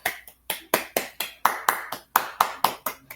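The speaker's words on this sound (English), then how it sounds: "Sayori finishes and we applaud." Crisp, evenly spaced claps, about a dozen in a steady rhythm, ring out close and clear as the player character applauds a poem in the visual novel game Doki Doki Literature Club.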